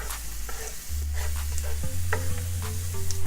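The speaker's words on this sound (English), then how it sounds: "Sizzling ASMR." Loud, close sizzling of garlic frying in a hot pan, with crackling spatter and stirring clatter throughout.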